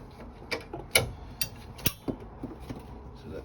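Two screws holding a bracket on a Vaillant 937 hot water pump are undone, giving irregular metallic clicks and ratcheting ticks, close and fairly quiet, with a few sharper taps spaced about half a second apart.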